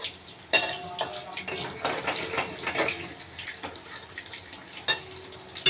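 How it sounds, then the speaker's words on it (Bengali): Cabbage pakoras fry in hot oil and are flipped over, a bright crackling sizzle with irregular splashy bursts and spatula knocks heard close up and alone. "আর একটা পিঠ এইভাবে উল্টে দিয়ে আবার আমি ভেজে নিচ্ছি।"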